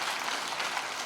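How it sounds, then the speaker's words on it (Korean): Church congregation clapping during a sermon, a faint, steady patter of many hands filling the short moment evenly, with no voices over it. "박수 치려면 좀 제대로 쳐봐."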